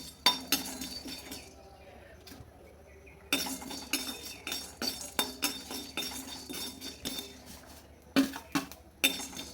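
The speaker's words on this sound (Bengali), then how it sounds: "শুকনো খোলায় ভেজে নিতে হবে।" Whole spices for a spicy mutton kosha are dry roasted in an oil-free pan, giving sharp clinks and scrapes of a utensil against the metal in irregular bursts, with quieter gaps between.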